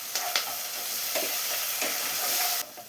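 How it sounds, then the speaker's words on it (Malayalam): Pineapple, garlic and curry leaves are sautéed together in a pan for pickle, a steady close hiss of frying with a few light stirring scrapes, cutting off abruptly near the end. "ഇനി ഇതെല്ലാം കൂടെ മിക്സ് ചെയ്തൊന്ന് വഴറ്റിയെടുക്കണം."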